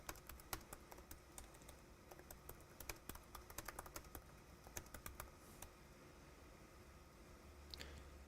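Typing on a MacBook Pro A1708 keyboard under test, quick irregular key clicks close by and fairly quiet, with no speech.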